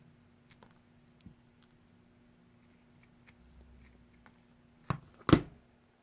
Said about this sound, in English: I can even cut these out